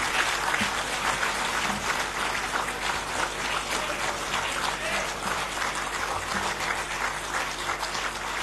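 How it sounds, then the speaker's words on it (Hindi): A crowd at an official MOU exchange ceremony in Delhi's Vigyan Bhavan claps continuously, a full, steady roar of applause filling the room with no voices over it. "कृपया तालियों की गड़गड़ाहट से इस विशेष अवसर का अभिवादन करें।"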